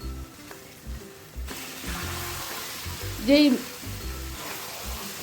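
Marinated chicken pieces frying in a spiced masala for a curry leaf chicken curry, stirred with a metal spatula, giving a steady sizzle with scraping strokes and one louder clatter midway; a voice speaks briefly.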